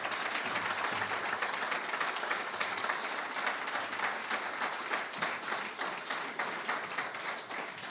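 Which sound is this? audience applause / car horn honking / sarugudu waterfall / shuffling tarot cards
audience applause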